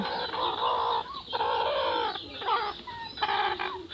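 A domestic desi hen clucks near a setting of eggs on a small farm, with several short, close, tonal clucks and calls in quick, uneven bursts, and no talk.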